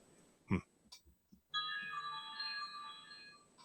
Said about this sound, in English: You're getting a call right now, believe it or not.